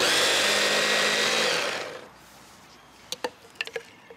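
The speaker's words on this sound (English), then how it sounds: "I'm using a small blender just to blitz it up" A small blender puréeing grilled sweet pepper whirs loudly for about two seconds and stops, followed by a few light clicks and taps.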